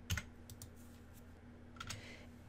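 A few quiet keystrokes tap on a computer keyboard, a short cluster at the start and another near the end, faint against a low steady hum.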